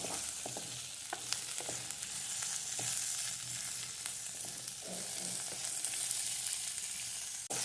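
Okra and green chillies sauté in a hot pan, a steady close sizzle with scattered scraping stirs and no talking.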